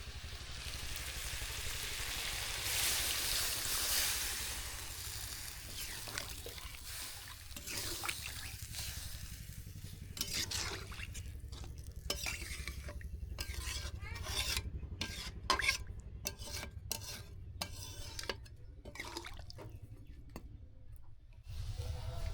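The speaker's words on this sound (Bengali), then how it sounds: "তরকারিটা কষানো হয়ে গিয়েছে এখন পানি দিয়ে দিব" Water goes into a pan of chicken curry cooked with ground dried chillies in a village kitchen. A loud hiss and rush rises at first, then settles into steady sizzling with repeated scraping strokes of stirring close by.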